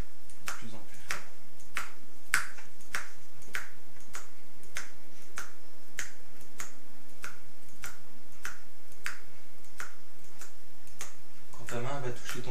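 Close, sharp finger snaps repeat at an even pace through a hypnosis induction, about a dozen in a row, before a brief clatter of other noise at the end, over a faint steady hum.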